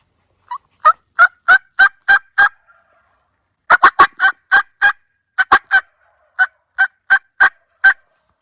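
Wild Merriam's turkeys in Wyoming near Devil's Tower gobble loudly from their roost, delivering rapid bursts of sharp repeated gobbles in several clusters, close and clear with no talking.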